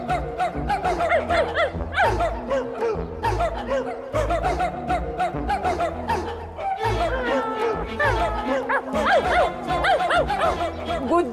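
A cartoon character imitates a dog's barking in quick repeated yaps, mixed with snickering laughter and chatter over a busy, loud background.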